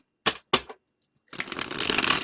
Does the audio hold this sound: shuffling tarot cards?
yes